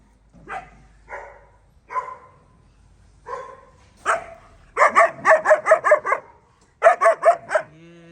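A male puppy barks and yips close by, starting with a few spaced single barks and then breaking into a rapid run of high, sharp yaps with brief pauses.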